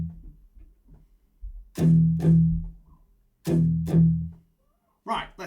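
Distorted metal guitar plays a beginner rhythm with rests: two pairs of heavy palm-muted chugs, each pair followed by a silent gap, then a final short burst.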